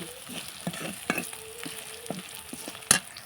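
Chicken frying in a pan and being stirred, a soft steady sizzle with occasional scraping strokes and one sharp utensil clink near the end, close by and fairly quiet.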